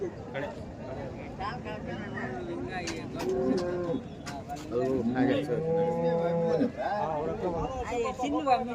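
Several low, drawn-out cow moos sound nearby at the large Chintamani cattle market in Karnataka, overlapping with people talking in the background.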